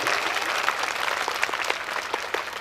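An audience at a Hindu Bhagavat Katha religious gathering in Prayagraj applauds, a moderately loud continuous patter of many hands with some sharper individual claps standing out near and far.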